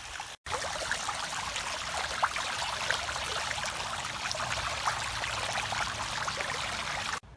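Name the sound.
water draining out of an emptied pool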